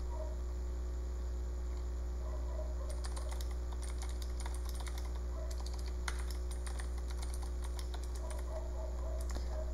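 Steady typing on a computer keyboard while entering Python commands in a terminal, with irregular bursts of close, crisp key clicks over a constant low mains hum.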